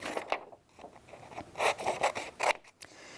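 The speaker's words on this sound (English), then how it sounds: "So I'm going to cut out my square." Scissors snip and rasp through paper, cutting out a square for a holiday pop-up card. The cuts come close up in short irregular strokes, with faint scraping between them and no talk.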